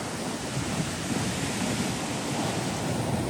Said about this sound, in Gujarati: આમ જુઓ તમે ખાલી મોજા જુઓ મિત્રો, બીજું કઈ જોવો નથી